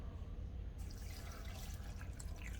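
Water pours into a Ninja blender jar for a slushie, a steady close splashing gush running throughout without talk.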